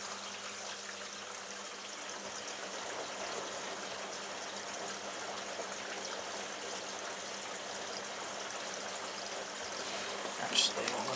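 Washing machine running its wash cycle, a soft, steady hiss of water flowing and trickling inside the drum at low level, continuous and even with a brief small clunk near the end.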